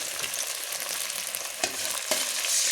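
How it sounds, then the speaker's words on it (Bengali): Live fish fry in hot oil with bay leaf, a close, continuous crackling sizzle with a couple of sharper pops and stirring sounds, no voices. "মাছগুলো সুন্দর করে ভাজা করে নেব।"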